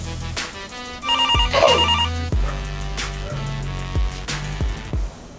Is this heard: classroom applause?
no